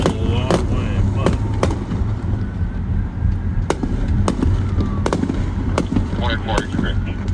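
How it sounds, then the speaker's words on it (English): Fireworks crack and pop in the distance, a scattered series of sharp bursts over a constant rumbling background, heard from a patrol setting. "Technically, she could be hearing these fireworks, to be honest with you."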